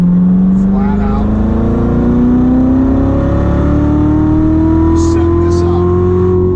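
A Corvette pulls hard at full throttle around a race track during an instructor ride-along, the engine's steady roar climbing smoothly in pitch and staying loud and close throughout while a voice talks over it.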